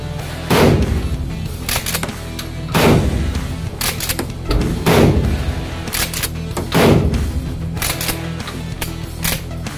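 A Turkish-made Hunt Group MH-Tactical 12 gauge shotgun fired with 00 buckshot outdoors: four loud, sharp blasts spaced about two seconds apart, each with a booming decay, no talking.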